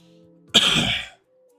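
A single loud, harsh throat clearing that runs into a short cough, close up, followed by quiet.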